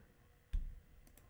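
A single mouse click lands amid quiet room tone during a video game session, followed by a couple of fainter clicks near the end; no one speaks.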